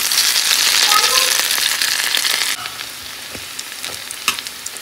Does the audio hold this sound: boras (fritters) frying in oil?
yes